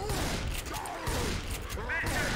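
Rapid bursts of gunfire in the zombie shooter game Dead Before Dawn, firing steadily and fairly loud throughout, with someone talking over the shots.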